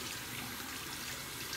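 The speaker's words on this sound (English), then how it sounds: "I'm gonna rinse off my hands first." Tap water runs steadily from a faucet into a sink as hands are rinsed during a face-washing routine, a close, even stream with no talking.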